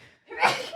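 A person gives a short, breathy sneeze, a single sharp burst that comes after a brief silence, close and moderately loud.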